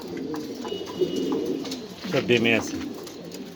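Domestic pigeons kept on a breeding farm, including Danish and other fancy breeds, coo in a low, throaty rolling burst close by, alongside someone talking briefly.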